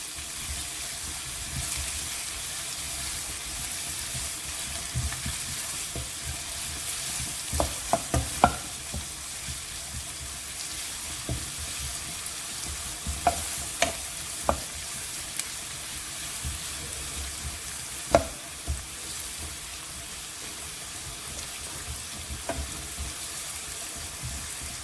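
Sliced onions sauté in a pan for a mushroom mutter masala, giving a steady low sizzle with occasional sharp clicks of a utensil stirring and scraping.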